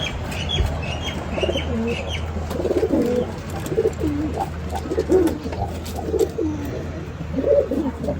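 Pigeons coo in repeated low, rolling phrases throughout, close and steady, with a few faint chirps and occasional wing flutters over a constant low hum.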